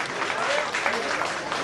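Audience applause at an annual school programme, a continuous wash of clapping from a hall full of people, fairly steady with voices faintly mixed in.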